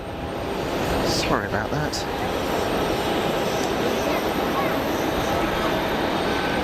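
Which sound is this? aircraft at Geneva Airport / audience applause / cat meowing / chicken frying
aircraft at Geneva Airport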